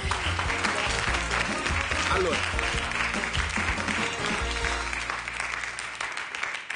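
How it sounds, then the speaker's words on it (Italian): An audience applauds on an Italian TV cooking show, with sustained, dense clapping throughout and a voice briefly speaking over it. "un applauso"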